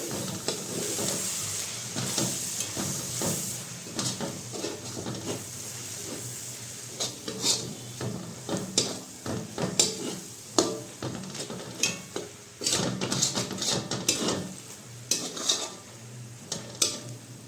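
A pea and fenugreek leaf curry with gram flour stirred in a pan: a soft sizzle under repeated clattering scrapes and knocks of a spoon on metal. The scraping grows busier and more rhythmic in the second half.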